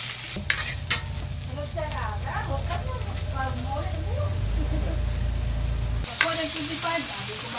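Aromatics sauté in hot oil in a frying pan, a steady sizzle with stirring scrapes and a few sharp clanks, while people talk nearby throughout.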